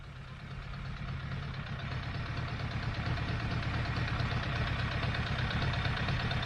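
A warmed-up motorcycle engine idles steadily on its own, either a Honda CBR900RR Fireblade or a Suzuki 1200 Bandit, with a continuous low rumble that holds even and close throughout.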